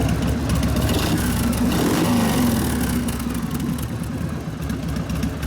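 A custom Harley chopper, a rigid bobber with an Evo engine, idles steadily after a tune-up, its loud, continuous rumble throbbing close to the microphone with no talk over it.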